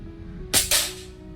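A Diana air rifle fires a pellet with one sharp, close crack, followed a split second later by a second snap, then quiet room tone.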